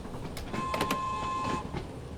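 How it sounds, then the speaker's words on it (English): A train horn sounds in Train Sim World on the Isle of Wight line, a single steady tone of about one second over the rumble and clatter of the moving train. "Quick blast of the horn, the"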